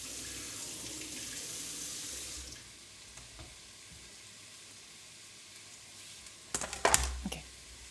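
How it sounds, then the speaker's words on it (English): Tap water runs into a kitchen sink as food is rinsed, a hissing stream for about two and a half seconds, then a quiet stretch before brief clattering splashes near the end. "I need to wash these,"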